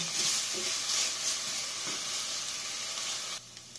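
Onions sizzle in hot oil for a creamy chicken macaroni salad, a close, steady hiss with soft stirring scrapes that drops off abruptly near the end.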